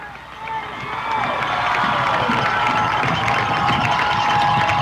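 Crowd cheering and roaring at a high school football game between Cameron Yoe and Rockdale, a steady loud wash of voices that swells after the first second and holds, with scattered shouts and whoops.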